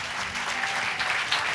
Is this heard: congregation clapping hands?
yes